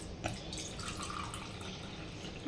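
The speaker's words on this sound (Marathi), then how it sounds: "त्याच्यामध्ये आपण एक ग्लास पाणी टाकणार आहोत चला टाका इथे" Water is poured from a glass into a cup for homemade lemonade, a faint, steady trickling splash in a quiet kitchen with no talk.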